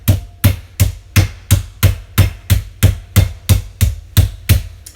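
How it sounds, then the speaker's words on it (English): Flat meat-tenderizer blows pound a pork loin, heavy close thumps repeating evenly about twice a second, a dozen strikes with no voices over them. "Okay, I'm going to keep pounding."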